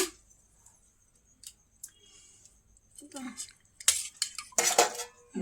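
Rice being served onto a metal plate at home, with scattered clinks and scrapes of metal serving utensils that grow louder and busier toward the end, close by, without talk.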